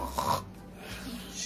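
A voice imitates snoring in a short burst of nasal, throaty rasping inside a home, followed by soft breathy noise.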